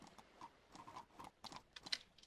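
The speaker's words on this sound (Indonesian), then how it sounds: "Ini panggil kuda ya." Horse hooves clip-clop in a steady, fairly close rhythm of separate taps in the market video game Old Market Simulator, heard alone with no talk.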